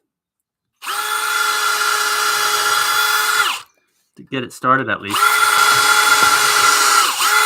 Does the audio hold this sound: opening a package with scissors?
no